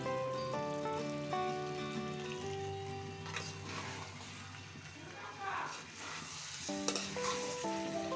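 A pan of chicken curry with chopped coriander and mint is stirred and mixed, soft sizzling and scraping running steadily beneath louder melodic background music.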